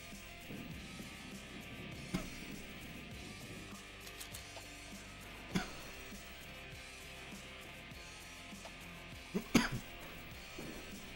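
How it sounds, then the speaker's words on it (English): A person gives a few short, isolated coughs spread over several seconds against a quiet, steady room background, with a cluster of coughs near the end. "Sorry about the coughing."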